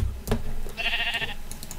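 Sheep bleating in the Minecraft video game, with one short wavering bleat heard clearly in the middle of the clip, along with a few light clicks before and after it.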